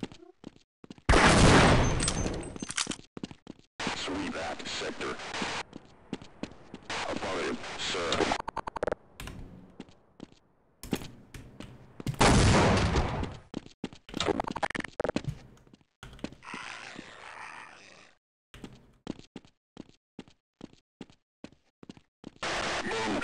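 Gunfire in the video game Half-Life, loud bursts of shots coming in several clusters with short gaps between them, mixed with scattered thuds and someone talking between them.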